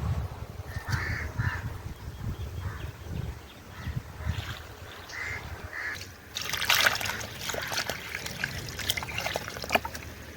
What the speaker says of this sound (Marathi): आता याला देते पाणी